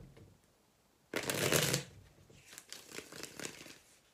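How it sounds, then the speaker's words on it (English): Playing cards shuffled by hand in a quiet room, a short riffle burst followed by a run of softer, quick riffles and bridging flutters. "Did I shuffle this?"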